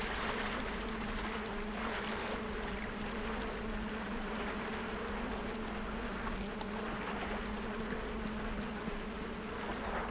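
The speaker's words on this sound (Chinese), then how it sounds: "你看全是苍蝇，你就明白是什么意思了吧？" Flies drone over a dark pond in the video game Limbo, a steady, faint, low buzzing hum that holds unchanged throughout with no other sounds standing out.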